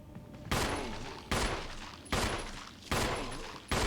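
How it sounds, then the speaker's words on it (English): Gunshots fired at a zombie in the Resident Evil Remake video game: five loud, sharp blasts spaced roughly evenly about 0.8 seconds apart, each followed by a decaying tail, with no talking. "I've gotta shoot him now."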